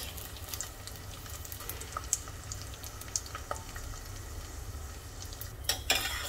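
Gond, the edible gum, fries in oil in a tilted pan with a dense, steady crackling sizzle. Light utensil clinks come through, with a louder scrape near the end.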